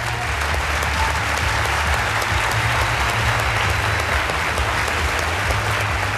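A large audience at an awards ceremony broadcast on public television breaks into loud, sustained applause, a thick wall of clapping with a low hum underneath, continuing unbroken.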